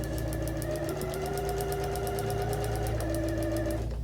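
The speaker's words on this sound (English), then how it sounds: "So I'm gonna sew this." A sewing machine stitches quilt fabric with a fast, even mechanical chatter and a low motor hum, running steadily close by and easing off near the end.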